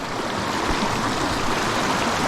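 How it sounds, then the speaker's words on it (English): A small offshoot of Donnelly Creek near Walhalla rushes steadily over rocks, a close, constant broadband wash of flowing water with no voices. "This is like an offshoot now of the creek we're on, which is Donnelly Creek"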